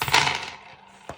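Dice tumbling out onto a tabletop in one short, clattering rush that fades quickly, followed by a single small click from a die settling.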